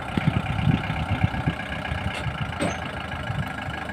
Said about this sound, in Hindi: इस तरीके से दोस्तों एक ट्रॉली को जोड़कर ट्रैक्टर से ले जाया जाता है।